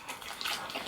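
Water runs from a tap in a steady, soft hiss and splash, a brief continuous gush with no pauses and no voices.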